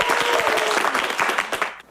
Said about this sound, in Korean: 큰 박수로 발표를 시작하도록 하겠습니다